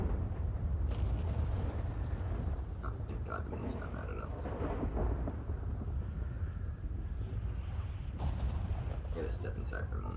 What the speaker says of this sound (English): Oh, the lightning's everywhere.